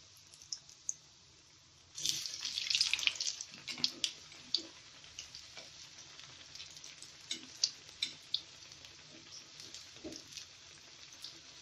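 Bread pakoras fry in oil over a low gas flame, giving a soft, steady sizzle with small pops, starting after a quiet moment and continuing alone.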